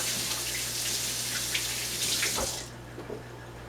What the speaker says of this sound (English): I'm going to wash my hands quickly because, I'm working with raw eggs.